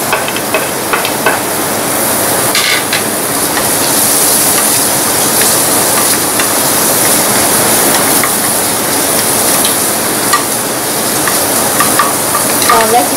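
Onions sizzling and frying in a pan for a beef and green pepper sauce, a loud steady crackling hiss with occasional scraping stirs, close up and without talk.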